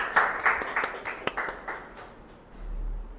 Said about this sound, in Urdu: تو میں چاہوں گا کہ آپ اپنے لیے ایک پرزور تالیاں بجا دیں.